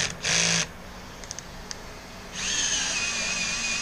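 Power tool spinning out the bar stud on a Husqvarna 525PT5S pole saw, held by Loctite, with two whirring bursts, a short one and then a longer sustained run, separated by a few small clicks.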